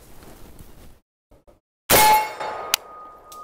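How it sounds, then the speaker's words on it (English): A rifle bullet strikes a hard AR500 steel target outdoors, giving a sharp loud clang that rings on with a sustained metallic tone, preceded by faint background noise and a brief quiet gap. "that's exactly what you're supposed to hear when you hit a very hard piece of steel like AR500"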